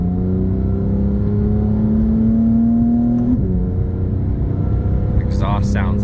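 Porsche 911 GT3 engine and exhaust on a test drive, a steady loud in-cabin drone that climbs slowly in pitch, then drops as the revs fall, with brief higher mechanical whine near the end.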